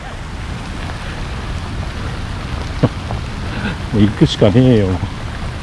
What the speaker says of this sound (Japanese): 大雨。